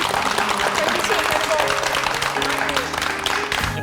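Studio audience applauding on a Korean TV talk show as a bouquet of flowers is brought out, a dense, steady wash of clapping lasting the whole moment with some voices mixed in.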